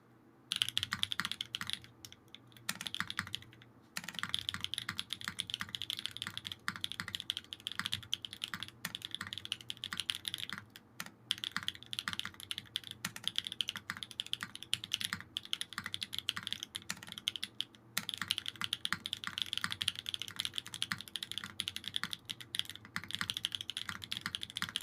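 Steady, continuous typing on a Hoshizora keyboard with a full polycarbonate plate, JWK Black Lotus switches and GMK Hallyu keycaps, dense close-up clacking with brief pauses and no talking.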